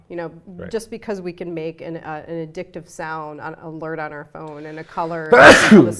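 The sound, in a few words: sneeze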